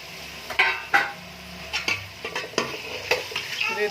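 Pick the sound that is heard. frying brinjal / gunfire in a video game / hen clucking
frying brinjal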